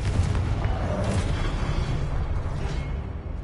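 A Confringo spell blast in a Hogwarts video game produces a loud, dense, rumbling explosion that fills the clip and fades slightly at the end.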